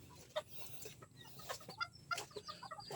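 Asil bantam chickens in a backyard flock make soft, scattered clucks and short chirpy calls, faint and irregular over a quiet background with light rustling; no talking.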